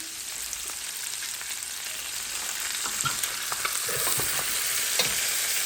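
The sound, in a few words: frying food in a pan for a Moroccan dish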